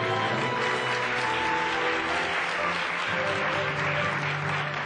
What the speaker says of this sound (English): how about a little applaud, yeah?